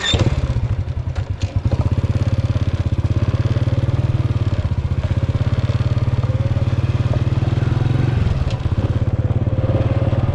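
Petrol-engine motorbike or small vehicle riding along a road under construction in Laos, its engine thrumming steadily and close with a rapid putter, a brief dip in revs and some rattling clatter, no talk.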